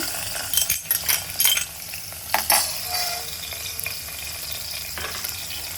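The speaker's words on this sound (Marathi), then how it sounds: "आणि आता इथे तूप पण चांगलं छान गरम झालेलं आहे. तर आता हे मी बदाम टाकते." Almonds tipped into hot ghee for vermicelli kheer, a bright steady sizzle with a few metallic stirring scrapes and clinks of a spoon against the pan near the start.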